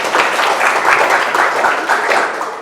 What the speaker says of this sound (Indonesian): Tepuk tangan dong buat semuanya.